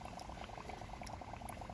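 Soft continuous bubbling of water as a goldfish container refills, faint and steady throughout with no pauses.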